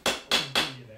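A tool taps three times on a propeller to mark hole centers before drilling, three sharp, evenly spaced metallic strikes close by, each with a brief ringing decay.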